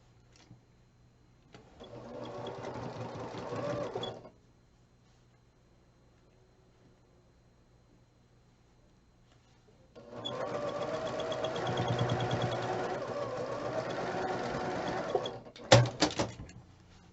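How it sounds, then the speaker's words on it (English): A sewing machine stitches two quilt blocks together for a Christmas pinwheel block, running in two steady bursts of whirring with a quiet pause between them, followed by a few brief clicks at the end. "Okay, so I'm going to sew these two together."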